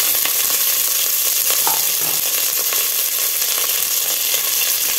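Chopped shallots and curry leaves sautéing in hot oil for a one-pot rice and lentil dish, a loud steady hissing sizzle heard up close with only a faint stir click, and no one speaking.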